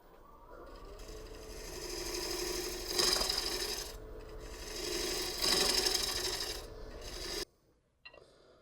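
A cutting tool scrapes rhythmically against a cherry wood winged bowl spinning on a wood lathe, harsh rasping strokes swelling and fading in repeated passes, then stopping abruptly near the end.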